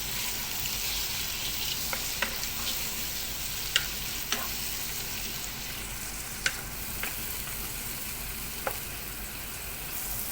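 Mutton frying with onions in a pan gives a steady, even sizzling hiss throughout, with a few faint clicks of a utensil scattered through it.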